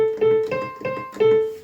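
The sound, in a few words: simple piano patch played on MIDI keyboard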